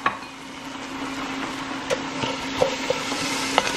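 Arborio rice being stirred and toasted in a hot pot, with soft, steady sizzling and a few scattered scraping clicks of the spoon against the pot.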